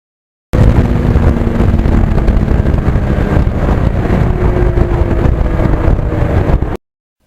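A 1991 Yamaha FZR 1000 motorcycle engine runs loud and close, a dense, continuous low roar with steady buzzing that holds for about six seconds before cutting off abruptly.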